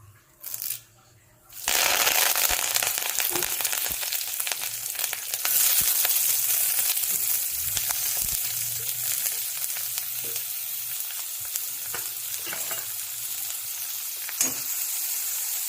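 Fenugreek seeds and onions fry in hot oil for an okra kuzhambu, a loud, steady sizzle that starts after a brief quiet moment and crackles on without a break.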